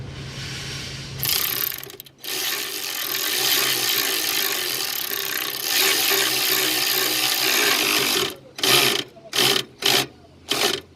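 A ratchet tightens a screw during a tune-up on a 2007 Mazda Tribute, with a long run of dense clicking followed by several short, separate ratcheting bursts, close and fairly loud, with no talk.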